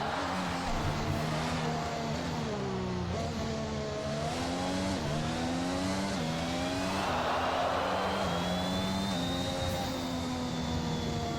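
A Formula 1 car with a blown engine is heard onboard, its strained, rough drone rising and falling in pitch as it coasts, loud and continuous with wind noise and no talk.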